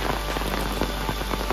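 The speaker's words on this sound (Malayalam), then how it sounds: "പെരും മഴയാണ്, ഒരു രക്ഷയില്ല കേട്ടോ." Heavy rain pours steadily on a hill trek in Wayanad's Banasura hills, a dense, close hiss of drops pattering on surfaces with no break and no talking.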